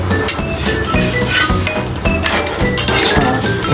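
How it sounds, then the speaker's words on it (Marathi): A peanut poli flatbread being flipped and cooked on a hot pan, loud sizzling with repeated metallic clinks and scrapes of a utensil against the pan, busy and close. "तर आता हे मस्त व्यवस्थित पलटी करून घ्यायचंय."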